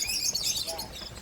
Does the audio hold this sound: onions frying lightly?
no